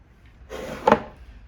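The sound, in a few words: secret wooden drawer of a writing slope being opened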